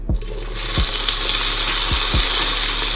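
Parboiled potatoes sear in olive oil in a hot pan, a steady loud sizzle running throughout with a few soft knocks of the pan or utensil.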